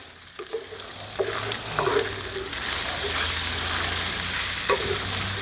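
Gochujang stirred in hot bacon fat in a pan gives a steady close sizzle and hiss. Scraping spoon strokes and clacks against the pan cut through it now and then.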